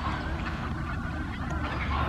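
Swans honking at a park lake at Jells Park, a steady muffled chorus of honks and squawks heard through outdoor background noise, without talk.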